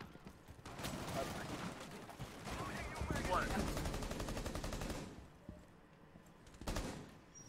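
Rainbow Six Siege gunfire punching through a wall, a dense run of rapid automatic shots and impacts for several seconds, then a short final burst after a brief lull, with voices talking underneath.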